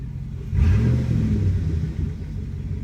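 A 2008 Chevrolet Silverado 5.3 V8 with muffler deleted rumbles up from quiet, revving with a deep, throaty, crackling exhaust note that settles into a steady low burble, close and loud.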